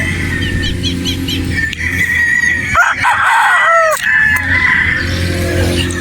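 Rooster crowing at a game farm in Batangas, with a long-tailed bulik gamecock nearby, rising over steady clucking and other fowl calls in an outdoor yard full of birds.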